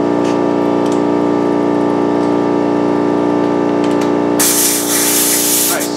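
Compressed air hisses as a UTV tire is inflated on a tire changer, with a steady tonal machine hum throughout before a loud burst of broadband hiss takes over for the last second and a half.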